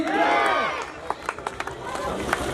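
A crowd at a public gathering claps in a short scattered burst of sharp hand claps, following a loud voice addressing the audience over a speaker.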